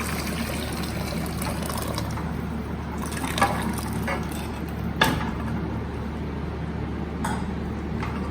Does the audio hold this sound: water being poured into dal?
yes